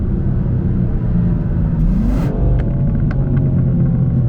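A BMW M2 G87 pulls hard from first gear, its engine a deep, loud rumble that builds steadily from inside the cabin, with a brief shift and light ticking near the end and no voices.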